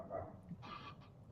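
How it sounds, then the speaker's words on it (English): A dog barks a few times indoors during a live vintage sale, faint and in the background, with short bursts clustered near the middle. "what are you barking at?"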